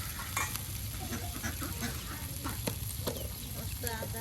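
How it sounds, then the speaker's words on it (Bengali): Taki fish frying in oil in a rural home kitchen, a steady sizzle with scraping and stirring clatter throughout, mixed with faint background chatter and birds. "মাছগুলো একদম তেলের সাথে ভেজে নেওয়া হচ্ছে।"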